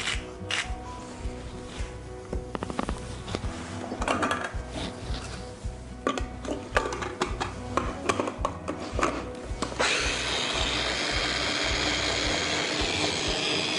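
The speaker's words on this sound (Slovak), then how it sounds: "Tento olej alebo toto pesto si rozmixujeme, nemusí byť úplne do hladka." A blender whirs through dill oil pesto in the last few seconds, a steady loud drone that follows a stretch of clattering kitchen knocks and taps.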